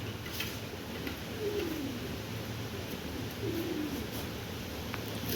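Pet pigeons, mostly white birds, coo softly at a farmyard loft, with two low drawn-out calls standing out against a steady background hiss.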